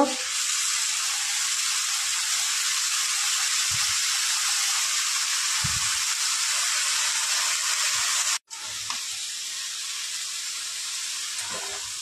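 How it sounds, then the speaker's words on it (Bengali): Lentil dumplings sizzle in a pan with spinach and chickpea greens, giving a steady, fairly loud hiss that cuts out for a moment near the end and then resumes. "বড়িগুলো দিয়ে দেব। পালং শাক আর ছোলার শাক আমি দিয়ে দেব।"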